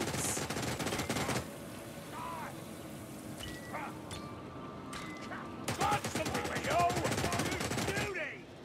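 Skaven gunner firing in Warhammer Vermintide, rapid machine-gun bursts of rattling shots, one early burst, then a longer volley near the end, with clanking mechanical sounds and brief voices in between.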